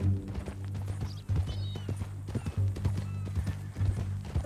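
Horse hooves clip-clop steadily in Red Dead Redemption 2 near a ranch, with a brief whinny partway through, fairly close and loud over a low continuous game background hum.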